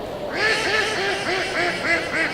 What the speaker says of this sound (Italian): Guardate le mie amiche anatre fantastiche.